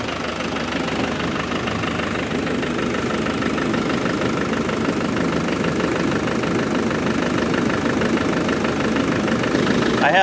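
A car engine idles steadily after a coolant refill, a loud continuous rumble with a faint knocking texture throughout and no talking.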